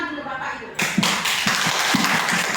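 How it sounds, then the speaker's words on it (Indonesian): An audience at a training session for teachers on coding and artificial intelligence breaks into clapping right after a voice speaks, the claps coming in a loose, fairly steady patter close by. "Tepuk tangan dulu Bapak Ibu."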